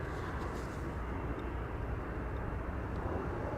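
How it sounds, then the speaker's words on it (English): A business jet takes off from runway 22 at Amsterdam Schiphol Airport, a distant, steady broadband engine roar that holds throughout without a clear peak. "more poorly visible bizjet just took off from runway 22"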